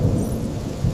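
A thunderstorm rumbles with a heavy, continuous low roar of thunder mixed with rain noise, loud and close, with a sharper crack swelling at the very end.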